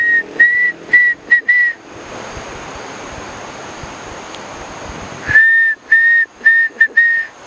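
Eerie whistling attributed to an Amazon forest spirit in the Peruvian jungle: short, clear, high whistled notes repeated in quick bursts, then a stretch of soft rushing noise before the whistles return, loud and close.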